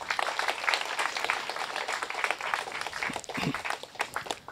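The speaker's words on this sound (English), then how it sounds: "let's give them a quick round of applause as well" A crowd applauds steadily with dense, continuous clapping that holds at an even level throughout.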